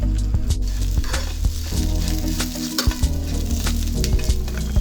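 Chopped ivy gourd pieces sizzle and fry in a pan for a green chilli curry, a loud steady crackling hiss broken by repeated scraping stirs and light clinks of a spatula against the pan.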